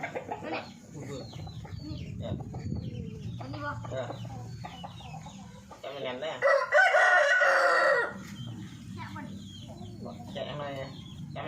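A fighting rooster crows loudly midway through at a gamecock farm, a long strained call, with other fowl clucking and someone talking before and after.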